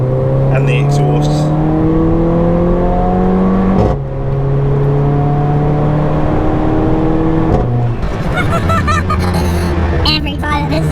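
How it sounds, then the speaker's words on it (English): A Mercedes-AMG A45 engine revs hard under acceleration, loud and close, climbing steadily in pitch through repeated pulls with two brief drops at the gear changes, then ending in crackly, uneven exhaust noise. "obviously the engine note really picks up when you start to put your foot down"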